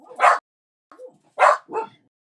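A dog barks in two short pairs, loud and close, with a brief quiet gap between the pairs and nothing else heard around them.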